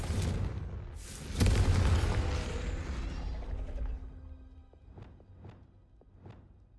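Booming spell explosions in the Hogwarts Legacy video game, one heavy blast followed by a rumbling tail, then a few sharp lighter magical zaps spaced about half a second apart.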